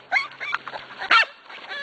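Corgi puppy barking and yipping indoors, several short high-pitched barks in bursts, near and moderately loud, with puppy whimpers between.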